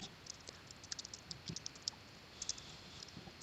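Keys clatter on a computer keyboard while an IP address is typed in, a quick irregular run of light, close clicks with short pauses, quiet and alone.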